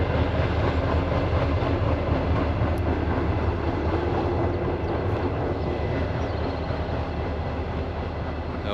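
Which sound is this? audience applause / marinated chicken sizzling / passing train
passing train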